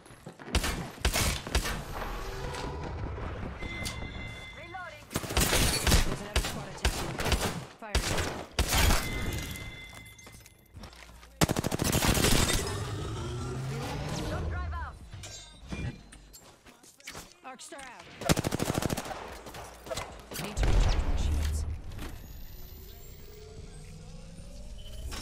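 Video game battle gunfire: loud bursts of shots and crashing impacts come in uneven waves with engine-like rumble, while a player talks over parts of the action.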